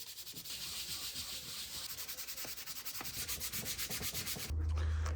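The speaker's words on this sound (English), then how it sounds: "I really went to town sanding this." A wooden nightstand top being sanded with 220 grit, a steady close rasping rub in long back-and-forth strokes that continues throughout.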